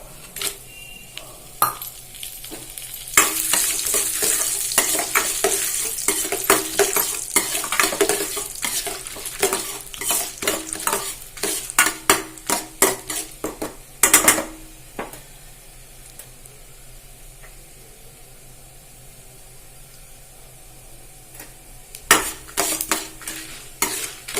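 Asafoetida and dried red chillies are tempered in a pan, with sharp crackling sizzle and rapid clinks of a metal spoon stirring against the pan in uneven bursts, then quieter pauses and more scraping, close and clear without talk.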